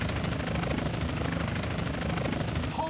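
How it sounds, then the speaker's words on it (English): Helicopter pursuing in the video game GTA San Andreas: a steady, loud rotor chop thudding continuously and close, filling the whole stretch with dense whirring beneath no clear talk. "We got a chopper on our tail."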